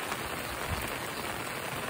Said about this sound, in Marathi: पाऊस खूप जोरात लागलाय बघा